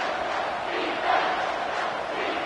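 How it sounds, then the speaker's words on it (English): A stadium crowd roars steadily in the NCAA 25 college football video game during a Michigan vs Mizzou matchup, a dense continuous wall of cheering that swells briefly near the middle. "with this place rocking, the crowd forces a false start"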